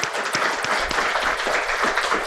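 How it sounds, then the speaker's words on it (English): An audience applauds a speaker at a talk, with brief, lively clapping from a roomful of people that stays fairly even throughout. "Round of applause, please, for Scott."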